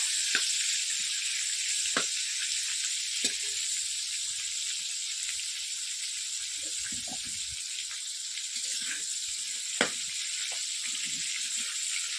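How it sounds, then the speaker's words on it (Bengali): Prawns sizzle steadily as they fry in a pan, a continuous hiss with a few sharper crackles and pops scattered throughout, close and alone with no talk. "হালকা করে চিংড়ি মাছটা ভাজবো।"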